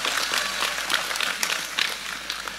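Audience applause at an Indonesian religious sermon gathering, a broad wash of clapping with irregular sharper bursts running steadily throughout, fairly loud and close, with no voices standing out.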